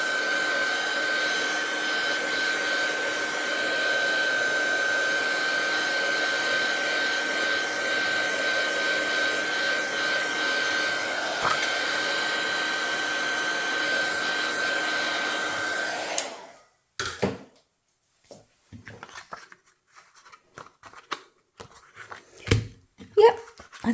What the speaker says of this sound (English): I'm just going to give that a blast of the heat on the back to straighten it back out.